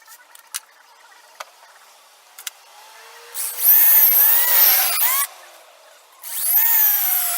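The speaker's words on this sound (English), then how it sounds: "I'm going to drill an oversized hole in here" A power drill bores an oversized hole for 7/64 wire in wood in two loud whining bursts with rising and falling pitch, preceded by a few light taps and clicks.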